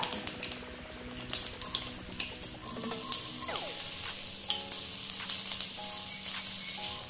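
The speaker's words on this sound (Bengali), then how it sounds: "সর্ষে যখন এরকম ফাটতে শুরু করবে তখন দিয়ে দিতে হবে 1 চামচ কুচনো আদা।" Black mustard seeds crackle and chopped ginger fries in hot oil, a steady close sizzle dotted with sharp pops and occasional scrapes of stirring, with no voices.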